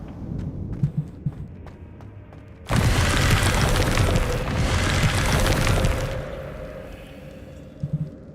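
A Confringo fire spell bursts in Hogwarts Legacy, a sudden loud boom at about 2.7 seconds followed by a roaring, crackling blast that sustains for several seconds before dropping back to quieter game ambience.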